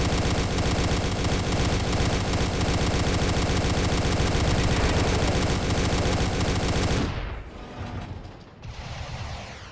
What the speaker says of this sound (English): Everett, those are Gauss rifle shells.